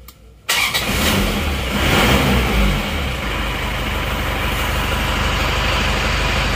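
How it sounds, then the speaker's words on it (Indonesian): An Isuzu Panther diesel engine, warmed up after repair, cranks briefly and catches, then revs loudly and settles into a steady, rough idle close to the microphone, with no talking. "Ini mesin sudah mendingan, agak panas. Kita start coba."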